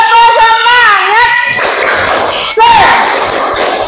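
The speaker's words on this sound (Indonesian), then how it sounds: "mari kita akan tepuk semangat dulu ya sebelum mulai pembelajaran" A primary-school class performs a rhythmic clapping chant before an Islamic religious lesson, with children's voices shouting in unison over busy claps and thumps, loud and close throughout.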